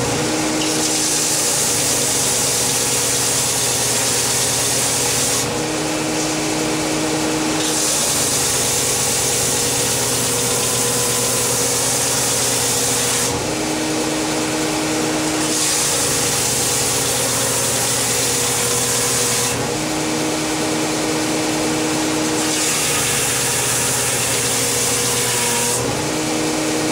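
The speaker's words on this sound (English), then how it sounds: "it comes off pretty quick on a good belt sander that's got a new belt on it" A belt sander fitted with a new belt grinds a wooden mandolin part, its steady motor drone loud and continuous, with the sanding hiss swelling and easing in repeated passes.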